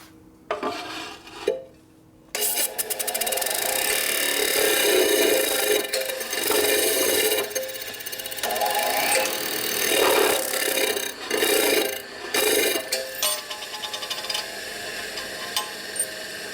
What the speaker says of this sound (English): So we're going to grind this side first.